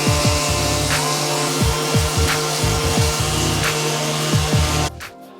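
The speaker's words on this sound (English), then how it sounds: "So I'm going to hopefully try and sand that out with an orbital sander." Orbital sander on 60 grit working a wood surface, a loud steady whirring hum with repeated scraping pulls, cutting off sharply near the end.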